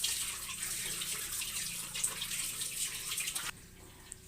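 Water splashes and trickles steadily as poppy seeds are rinsed and washed by hand in a bowl for halwa, a continuous close wash that drops in level near the end.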